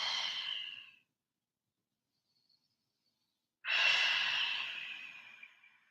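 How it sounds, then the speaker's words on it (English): Slow, deep yoga breaths during a forward fold: one soft exhale trailing off, a long silence, then a longer, fuller breath that gradually fades, close and quiet with no talking. "2 more breaths, dive deep"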